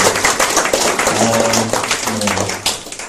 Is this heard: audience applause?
yes